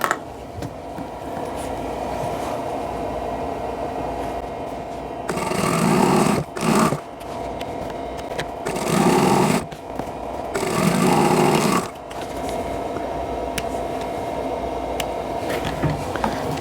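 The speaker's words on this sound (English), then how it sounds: "Press it, and now I'll sew on these lines." A sewing machine sews a quilt block in three separate whirring runs, each a few seconds long, close and clear over a quiet room tone with pauses between.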